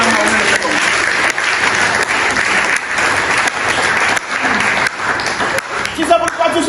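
A church congregation claps loudly and continuously, a dense wash of applause filling the room, with voices mixed in among the clapping.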